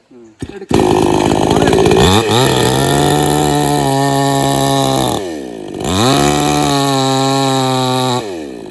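A chainsaw revs up and runs hard while cutting a tree such as a coconut or areca palm, its loud droning engine steady, then briefly dropping in pitch before roaring again, close and dominant throughout.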